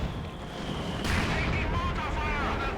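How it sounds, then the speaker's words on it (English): A mortar shell lands in the Company of Heroes 2 battlefield, a sudden dull impact about a second in over a low rumbling backdrop of distant combat, with faint high whistles trailing after. "Mortar hit there"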